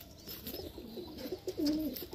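An Andhra pigeon coos softly in a home loft, giving a few low, rolling coos close by against quiet background noise.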